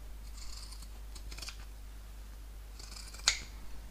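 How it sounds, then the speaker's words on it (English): Pinking shears trim along a fabric seam allowance in a few quick, crisp snips with a short pause between them, quiet and close over a low background hum. "All I'm doing is just trimming along this seam allowance with my pinking shears."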